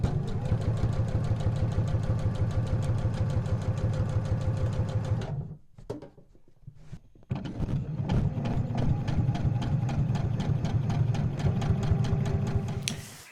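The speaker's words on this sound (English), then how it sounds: "I'm just going to do a straight stitch" A sewing machine runs a straight stitch on raw edge applique fabric, a fast steady mechanical chatter that stops briefly partway through and then resumes at the same even pace.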